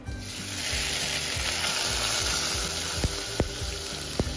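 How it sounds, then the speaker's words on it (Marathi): Washed barnyard millet rice hits hot ghee with cumin tempering and sizzles loudly and continuously, with a few sharp spatters and scrapes toward the end. "जिरं तडतडलं की त्यात धुतलेला वरईचा तांदूळ आपल्याला फोडणीत टाकायचा आहे."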